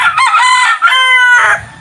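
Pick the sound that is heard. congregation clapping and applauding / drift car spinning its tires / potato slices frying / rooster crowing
rooster crowing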